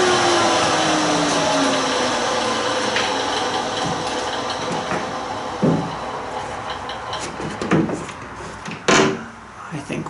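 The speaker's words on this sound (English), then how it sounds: "So I'm gonna take it to the disc sander and trim that down." A disc sander trims a wooden piece for a dinghy deck and gunwales, a steady whirring grind with scraping contact and a few louder thumps and knocks near the end.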